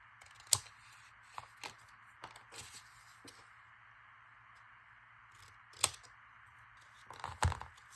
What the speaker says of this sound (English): I'm just gonna cut that a bit smaller